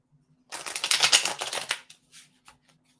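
Tarot cards shuffled and laid out, a dense burst of riffling and slapping card sounds for about a second and a half, followed by a few light, separate taps as cards are set down in a quiet room.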